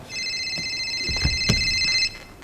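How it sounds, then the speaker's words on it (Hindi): A telephone rings in one steady electronic trill lasting about two seconds during a stage play, with a few soft knocks underneath. "किसका फोन है?"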